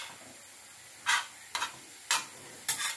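Minced meat qeema fried and stirred on a tawa, heard as four short scraping stir strokes about half a second apart over a faint steady sizzle, close and alone.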